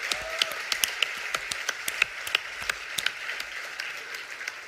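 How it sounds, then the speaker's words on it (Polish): Faint, distant applause from a tech conference audience for a demo team, with individual claps audible as a steady patter of sharp hits over several seconds. "let's give them one big round of applause also"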